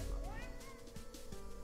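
A kitten meows in the video game Ikenfell, several short rising meows in quick succession, fairly clear over faint background music.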